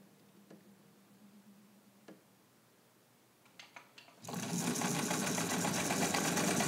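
A restored pink Necchi BU Nora sewing machine stitching a satin zigzag, starting with a few quiet ticks and clicks before breaking into a loud, steady, rapid mechanical whir that runs continuously and close up.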